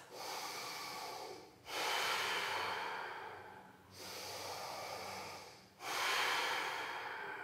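Full abdominal and thoracic breathing during a yoga back bend: slow, deep audible inhales and exhales alternating in long rhythmic waves, close and fairly quiet with no talking.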